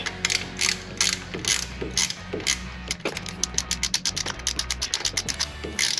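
A ratchet wrench turns a long bolt during a Ford Coyote engine install in a restomod Fox Body car, giving rapid repeated clicking strokes in quick bursts, close and loud throughout.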